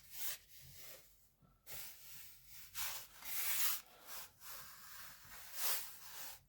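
A hinge marking tool scores into wood, giving repeated close rubbing, scraping strokes in short bursts with brief pauses between them.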